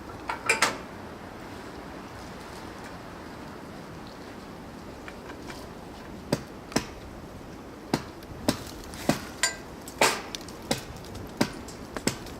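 Hammer chopping at a hunting tree stand outdoors: a run of sharp, separate knocks, sparse at first and then more frequent, moderately close over a steady rustling background.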